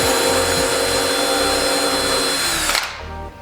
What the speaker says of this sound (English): Drill it out, hold it in place.